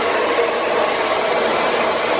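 Hair dryer blowing hair forward while a large round brush is used during a classic bob haircut, a loud steady whooshing roar, close and continuous without pause.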